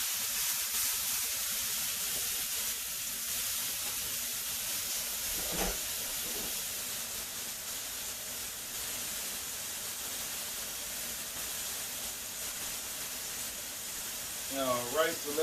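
A seasoned steak searing in a hot pan gives a steady, close hiss of sizzling throughout, with one soft knock partway and a faint voice near the end.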